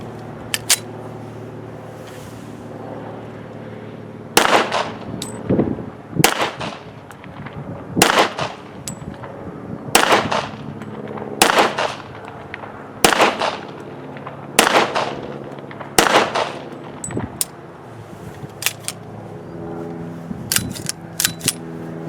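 A Sig 1911 Emperor Scorpion pistol fires a magazine at a range, about a dozen sharp, loud shots at an uneven pace of roughly one per second, with a few quicker pairs near the end.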